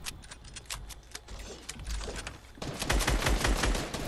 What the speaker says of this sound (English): I'm getting shot at by people in zone